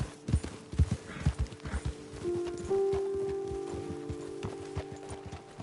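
Horses in Red Dead Redemption 2 clip-clop at a walk in a steady, close rhythm, with a brief neigh or whinny partway through; no one speaks.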